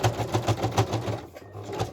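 A sewing machine stitching down a mini Easter journal, rapid rhythmic needle thumps running in quick bursts with a brief pause, close and fairly loud.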